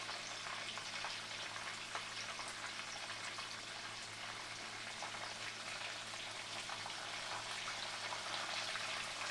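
Breaded chicken for chicken parmesan fries in a pan with a constant, fairly quiet crackling sizzle that stays unbroken throughout, with no talking.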